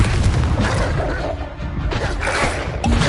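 Loud booming explosions from the Confringo fire spell in Hogwarts Legacy on PS5, with a dense, continuous rumble and crashing bursts and no talk over them.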